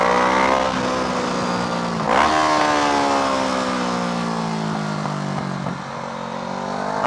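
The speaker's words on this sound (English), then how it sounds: "Oh, it's only a maxi scooter." A maxi scooter rides past a motorcycle, its engine note rising and swelling loud as it closes in around two seconds, then holding a steady drone that eases slightly as it moves on, all without talk.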